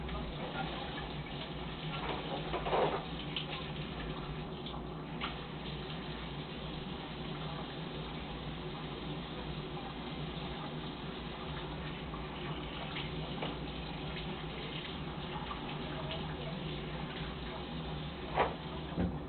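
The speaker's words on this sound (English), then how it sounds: "First I gotta wash my fork because that little brat." A kitchen tap running while a fork is washed under it, a faint, steady trickle and splash with small clinks, and a voice talking now and then over the water.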